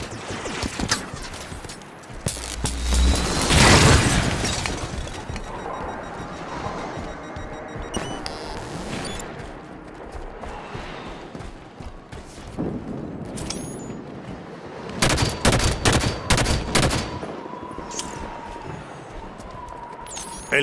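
Bursts of gunfire crackle and boom amid chaotic combat in Halo 5: Guardians, loud clustered volleys at the start and again near the end, with quieter battle noise in between.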